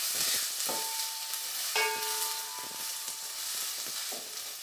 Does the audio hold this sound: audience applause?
no